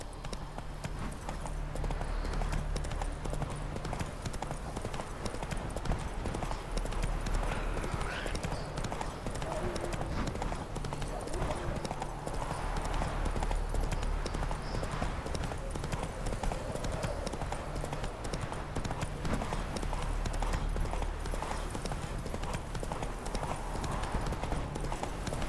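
The horse Roach's hooves clip-clop steadily in a video game. The even, continuous gait runs for the whole stretch beneath a steady ambient bed.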